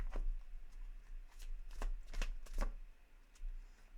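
Tarot cards are shuffled and drawn, giving a string of crisp close riffling and snapping flicks in quick irregular bursts in a quiet room.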